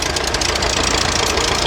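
A vintage tractor engine runs steadily at an outdoor rally in South Gloucestershire, a close, rough and continuous drone with wind noise mixed in.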